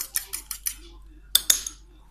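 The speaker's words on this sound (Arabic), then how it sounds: "نضربوا حبيبه تاع البيض مليح وندهنوا الخبز تاعنا" A fork or utensil beats an egg in a bowl for glazing Turkish bread: a rapid run of light clinks, then a pause and a couple of sharper taps, close up.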